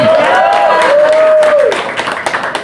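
An audience gives a person a short burst of clapping and cheering; a voice rises in a wavering shout over it, then the applause thins into scattered claps.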